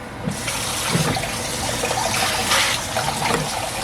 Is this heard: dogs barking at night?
no